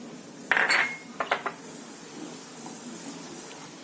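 Besan flour is mixed into corn pakoda batter in a bowl, giving a few clinking spoon-on-bowl strikes and scrapes, a loud one first and then lighter taps, with no talking.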